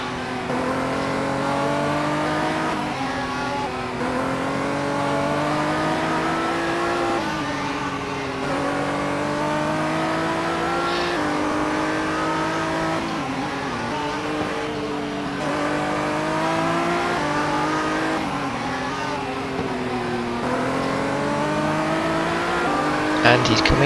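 Onboard race car engine in rFactor 2 endurance racing, a steady loud drone rising in pitch through each gear and dropping on upshifts and braking, with a commentator talking over it.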